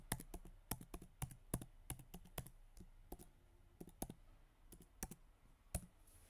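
Quick, irregular clicks of keys on a Mac keyboard as a password is typed, fairly close but quiet, in short bursts with brief pauses and no talking.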